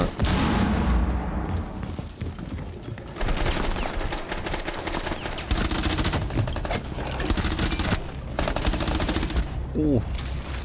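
Rapid gunfire from a Rainbow Six Siege match, a dense, loud stream of repeated shots and bursts running almost throughout, with a few brief gaps between volleys.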